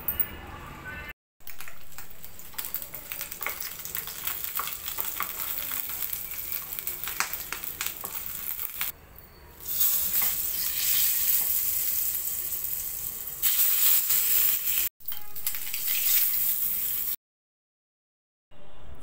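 A curry base for dried fish gravy sizzles and fries in oil in a pan, a steady crackling hiss that swells and fades with brief cuts and a silent gap, while someone talks over it.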